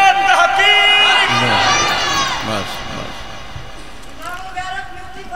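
A crowd at a religious gathering shouts slogans in unison, a loud massed roar of many voices that swells then fades as a single speaker's voice carries over it.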